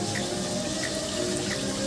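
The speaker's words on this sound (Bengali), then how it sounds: "ভালো করে একটু 1 মিনিট নেড়ে চেড়ে আমি জল দিয়ে দেবো।" Water poured steadily into a pan of Bengali doi begun curry, a continuous close splashing and trickling stream with no talk.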